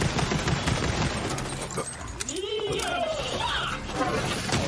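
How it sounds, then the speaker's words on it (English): Rapid gunfire and explosions from the video game Borderlands 3, a dense, loud, continuous barrage with sweeping tonal effects layered over busy game noise. "Explosion with rapid fire."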